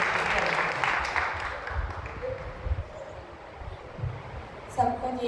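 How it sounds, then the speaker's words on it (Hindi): A church congregation at St. Sebastian's Church applauding during a prayer gathering, with a burst of clapping that fades into a murmuring room and a voice speaking near the end. "ताली बजाएंगे प्रभु के लिए थोड़ा सा"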